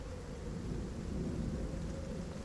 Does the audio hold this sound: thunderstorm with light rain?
yes